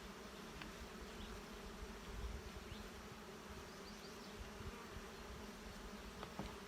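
Honeybees hum steadily around their hives in an apiary where weaker colonies are being salvaged. The soft, continuous drone carries on throughout, with occasional louder passes from individual bees.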